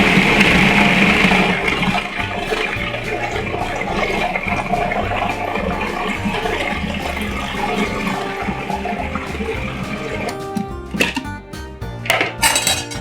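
A food processor purees a macadamia nut spread with a loud, continuous whirring grind for about ten seconds, then stops, followed by a few clinks and knocks of the bowl and utensils.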